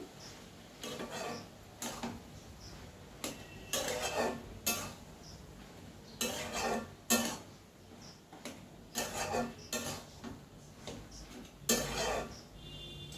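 Vegetables with salt and sugar are stirred in a pan with a spoon, giving irregular scraping and clattering bursts close by, separated by short quiet gaps.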